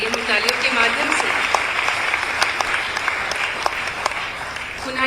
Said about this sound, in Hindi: आइए हम तालियों के माध्यम से